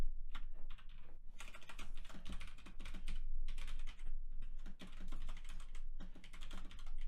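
A computer keyboard is typed on steadily to enter a sentence, with close, rapid key clicks in uneven bursts and brief pauses throughout, and no voices.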